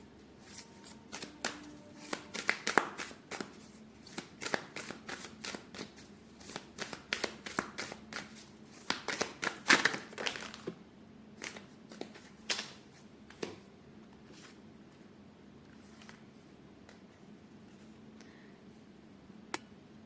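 A deck of cards is shuffled up close, with repeated quick riffling clicks and snaps in bursts that thin out toward the end, fairly quiet with no speech.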